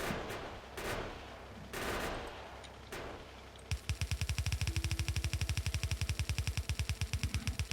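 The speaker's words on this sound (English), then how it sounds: "My gun turret." A Factorio gun turret opens up at close range midway, a rapid, steady stream of loud automatic shots that continues to the end, following a few earlier softer bursts.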